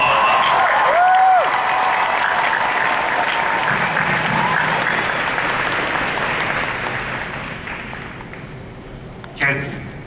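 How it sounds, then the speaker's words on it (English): A crowd applauds loudly at a Supernatural panel at San Diego Comic-Con 2013, the clapping gradually thinning and fading, with a short burst of cheering near the end. "they deserve a big round of applause"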